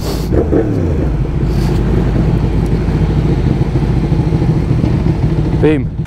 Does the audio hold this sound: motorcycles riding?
yes